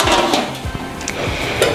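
An aluminium wok is set down with a few metallic clanks and knocks, loud and close, with no speech.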